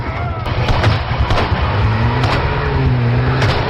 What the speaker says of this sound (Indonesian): Lalu kabur menggunakan sebuah mobil mewah yang ada di ruangan itu.